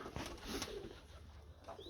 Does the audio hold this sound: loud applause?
no